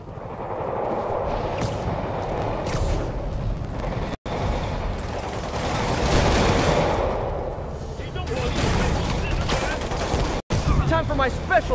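Dense, continuous heavy gunfire and explosions in Marvel's Spider-Man Remastered, a battle against demons, loud and busy throughout with brief sharp cutouts, while voices speak over the combat.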